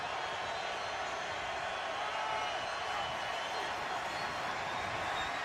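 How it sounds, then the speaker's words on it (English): Tampa Bay Buccaneers home crowd cheering during a 2009 NFL game against the Green Bay Packers: a dense, steady stadium roar that stays loud and unbroken from start to finish. "The Bucs crowd gets loud on 36."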